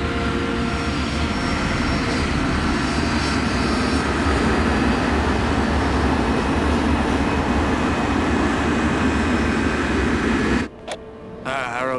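An Avro Arrow jet fighter interceptor idles and taxis into position at the end of the runway before takeoff, giving a loud, steady engine roar with a whine that cuts off abruptly near the end.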